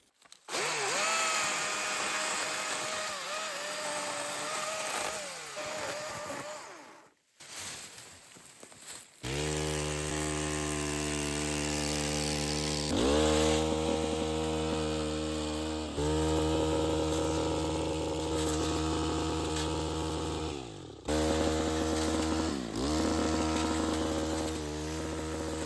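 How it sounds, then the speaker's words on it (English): A chainsaw bar cuts woody, overgrown brush beneath a fence line, the engine starting after a short lull and then buzzing loud and close in a steady drone, with brief dips in pitch as the chain bites into the wood. "I can even get the chainsaw bar under here and start cutting this woody nasty"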